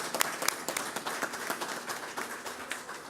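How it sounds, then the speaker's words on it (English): Audience at a school governing board meeting applauding, a moderate spread of steady clapping in a room, with sharp claps up close. "So if you could stand so we could give you a big round of applause."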